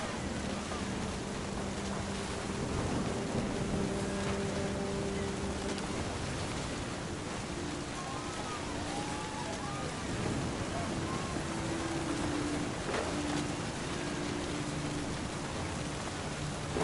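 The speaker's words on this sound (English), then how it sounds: "The thunder sounded much too close and full of angry power." Rain and distant thunder in the video game What Remains of Edith Finch, a steady hiss of rainfall with low rumbles running throughout at moderate level, along with faint tonal game sounds.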